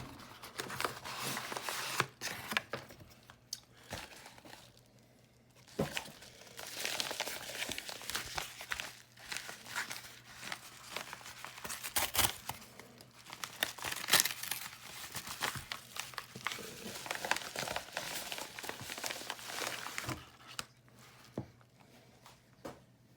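Paper crinkling and rustling while unboxing coin mail from a coin company, close handling with bursts of crackling, tearing and crumpling separated by quieter pauses.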